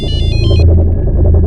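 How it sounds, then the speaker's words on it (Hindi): A bright electronic ringtone chirps in quick repeated bursts for about half a second, then cuts off, leaving a low rumbling background. "अरे तो मेरे मोबाइल से फोन आ रहा है।"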